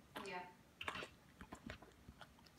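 A dog gnaws a smoked bone, giving close, faint crunching and biting bursts at irregular intervals, with people speaking nearby.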